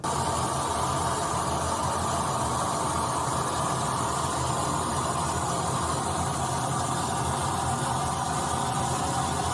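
A dense, unbroken harsh noise wall of distortion roars at a constant loud level throughout, with no pauses or changes.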